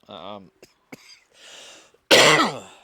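A short vocal sound, some small clicks and a breath, then one loud, raspy cough right up close.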